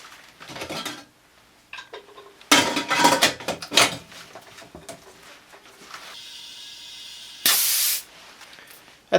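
A pressure pot holding a resin surgical guide is handled and sealed: metallic clanks of the lid and fittings, then a steady burst of hissing air as it pressurizes, fairly close.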